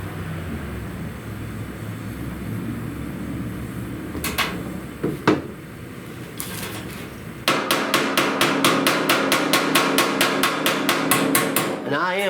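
Hammer blows on a severely dented 1969 Chevrolet C10 truck fender, first a few scattered hits and then a fast, regular run of sharp metallic strikes that rings loud and close.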